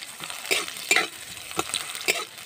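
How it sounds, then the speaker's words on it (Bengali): Sliced onion sizzles in mustard oil in a wok, with steady frying hiss and a few sharp scraping stirs of the spatula at roughly half-second intervals, close up. "পেঁয়াজটা আমি ভেজে নেব।"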